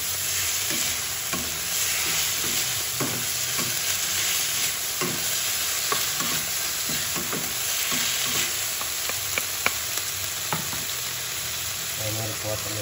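Food being stir-fried with oyster sauce in a pan, a continuous sizzle broken by repeated scraping and clacking of a utensil stirring, with faint speech now and then.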